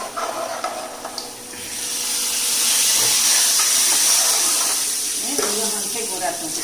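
Okra sizzling as it hits a hot pan in a home kitchen, a steady broad hiss swelling and holding for several seconds, close and fairly loud, with people talking over it.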